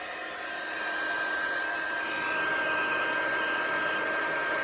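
A heat tool for embossing blows steadily, a continuous even whoosh with a faint high whine, close and unbroken, swelling slightly partway through.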